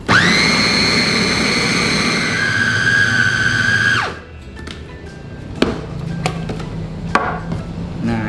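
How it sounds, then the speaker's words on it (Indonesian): Electric food chopper whirs at high speed mixing meatball dough of wheat flour and tapioca, a loud steady motor whine that drops as it stops, followed by a few scattered knocks and clicks. "Jadi kalau kita bikin pakai chopper ini sangat simpel ya, nggak kotor tangan."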